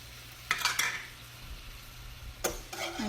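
Heavy cream is whisked into onion gravy in a hot pan: two short bursts of metallic whisking and scraping stand out over a soft low sizzle, close by.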